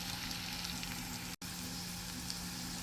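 Chopped green chillies, onion and ginger sauté in hot ghee inside a pressure cooker, giving a steady close sizzle and crackle with a brief dropout midway.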